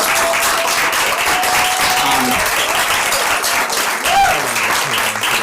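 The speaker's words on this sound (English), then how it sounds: "how about a big round of applause for the Vision Hub?" A large audience at a child welfare event bursts into sustained, dense applause for the Vision Hub, clapping steadily and loudly from start to finish with no break.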